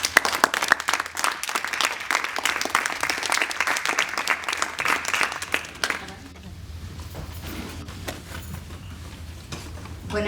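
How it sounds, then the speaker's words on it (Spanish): Audience applause at a poetry reading: a dense burst of many hands clapping that fades after several seconds, giving way to room noise and a voice beginning to speak. "Un aplauso para los tres, por favor."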